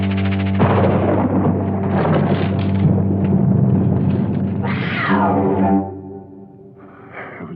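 A cat gives a long, loud, drawn-out yowling meow close by, rising and falling in pitch before trailing into a quieter cry at the end.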